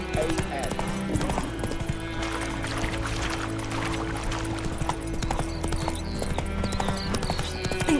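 Hooves of the horse Roach in The Witcher 3 clopping in a steady galloping rhythm, close and continuous, with a voice talking over it.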